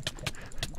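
Hoofbeats of a horse being ridden in Minecraft, three quick, close clip-clop thuds spaced unevenly over less than a second.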